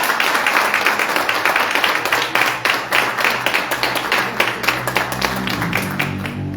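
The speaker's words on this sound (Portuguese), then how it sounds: "Aplauda o Senhor Jesus, irmãos." A church congregation claps loudly and rhythmically in praise, a steady, fast run of sharp hand claps filling the space for several seconds, close and strong, with a low sustained tone appearing beneath toward the end.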